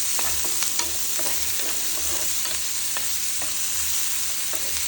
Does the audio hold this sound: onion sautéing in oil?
yes